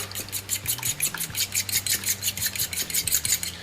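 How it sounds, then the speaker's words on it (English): Eggs for a two-egg omelette are whisked with a fork in a bowl, producing a fast, steady rhythm of close metallic taps and scrapes against the bowl, about four strokes a second, with no talking. "Mix it up to a nice yellow, even mixture"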